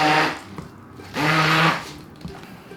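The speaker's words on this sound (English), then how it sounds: "And now with the immersion blender, just puree it up." An immersion blender purees cooked pumpkin in two loud whirring bursts, the first fading out and the second swelling up about a second later, heard up close with no one speaking.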